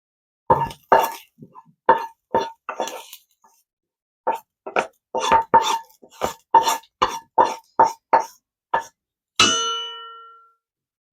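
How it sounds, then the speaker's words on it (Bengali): Fried onions for an Afghani egg curry are tipped onto a plate in a run of short, loud clinks and plops, spaced irregularly with brief pauses, ending in one ringing clang. "এবারে একটা প্লেটের মধ্যে পেঁয়াজগুলোকে ঢেলে দেব।"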